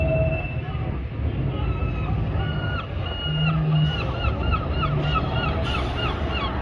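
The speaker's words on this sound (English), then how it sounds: "there is the balloon tram" A Blackpool balloon heritage tram runs nearby amid steady rumbling street and rail noise, with repeated short squealing, honk-like tones recurring over several seconds.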